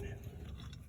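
A C-clamp is cranked to press back the caliper piston during an Acura brake pad and rotor replacement, giving a short, close, grinding ratchet-like mechanical churn with no talk.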